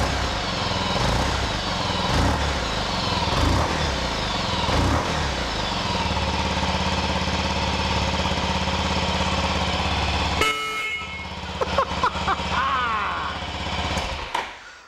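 A 2019 army-style motorcycle built in a 1940s style idles loud and steady after start-up, with a continuous rumbling exhaust for about ten seconds before it cuts off, leaving a few faint knocks and clicks.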